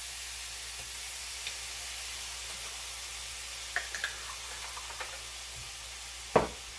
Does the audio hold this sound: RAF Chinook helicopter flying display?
no